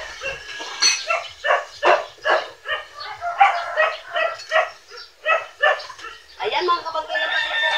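Several dogs bark in quick, repeated bursts, close and loud, with a few yips mixed in.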